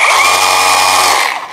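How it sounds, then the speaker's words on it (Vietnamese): An S-Fan Pro cordless chisel hammer runs close and loud in a steady, buzzing mechanical drone for just over a second before cutting off and fading. "con này là mẫu chuyên về đục của S-Fan Pro"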